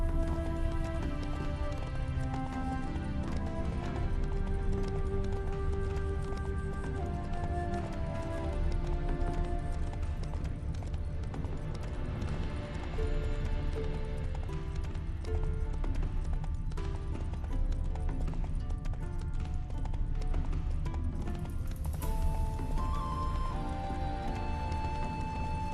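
Roach the horse's hooves clop in a steady, continuous gallop in The Witcher 3 video game, running under a dense, constant game soundscape.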